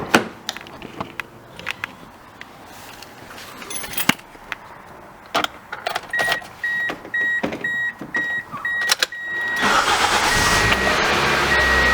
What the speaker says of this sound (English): So I'm gonna get the car started and see